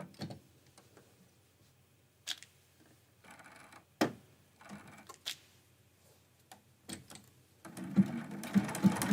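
Faint, intermittent sewing machine stitching on a Christmas quilt-as-you-go block, with short runs and clicks that build to a steadier, louder run of stitching at the end.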